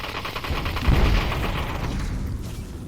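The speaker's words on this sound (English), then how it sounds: "2 M60s firing at him" Sustained automatic gunfire from two M60 machine guns in the VR shooter Population: One, a dense continuous rattle with a heavier thump near the start, loud and close with no talk.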